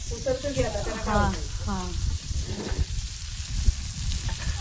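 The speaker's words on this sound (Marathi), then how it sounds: "पहिलं शिजून घेतलं थोडं मासं, वरून टाकते आता लाल तिखट." Fish sizzling and frying in a pan after red chili powder is sprinkled over it, a steady close hiss throughout with someone talking over it.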